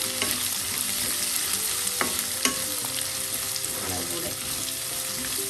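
Two medium sliced onions and curry leaves fry in a hot pan for a Kerala potato masala mezhukkupuratti, a steady dense sizzle with occasional clinks of stirring and a brief spoken word.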